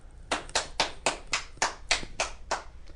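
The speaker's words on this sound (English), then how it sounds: "Wow, that was an awkward clap." Hand claps, about nine sharp slaps in a steady, slightly uneven rhythm, fairly close and alone with no talk, from a podcast recording.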